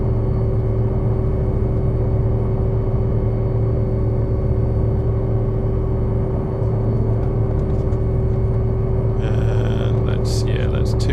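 An H500c helicopter flying over Hawaiian waterfalls in Microsoft Flight Simulator 2024 gives a constant, loud rotor and turbine drone with steady tonal hum, and a brief whirring burst near the end.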